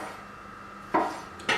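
Two crisp knife strokes on a cutting board as San Marzano tomatoes are cut into quarters and halves, each a short sharp tap after near silence.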